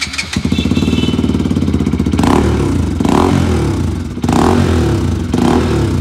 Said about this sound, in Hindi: ये आ गया अपना एक्रापोविक का डुअल वाल्व वाला, ये देखो इसमें दो वाल्व आता है।